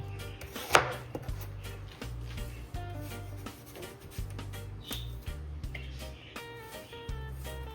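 A knife cuts through a single apple on a cutting board for a cucumber, apple and corn salad, giving one sharp loud chop followed by softer, steady cutting taps over a low background hum.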